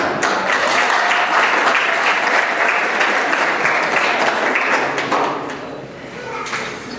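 Guests applaud at a vow renewal ceremony, a full steady round of clapping from the gathered audience that thins and softens slightly toward the end.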